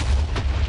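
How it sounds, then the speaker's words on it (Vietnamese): A brief, deep boom rumbles as a boss drops bombs in Minecraft, a heavy low blast that fades within a moment. "Ôi, nó thả bom bạn ơi, nó chơi thả bom."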